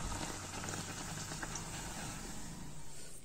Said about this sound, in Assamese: এনেকৈ এতিয়া গোটেইবিলাক আমি ভাজি ল'ম।